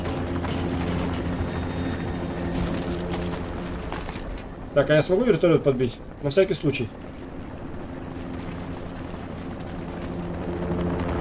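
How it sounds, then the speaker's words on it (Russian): A helicopter in the zombie video game Dying Light drones steadily overhead with a low rotor hum throughout, while a voice briefly speaks over it and a few short in-game bursts cut through the middle. "Так, а я смогу вертолет подбить?"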